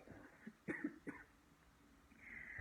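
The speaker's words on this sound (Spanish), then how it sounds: "Me perdonan, me da tos" Several quick, close coughs in a short cluster, followed by quiet breathing and a faint hiss.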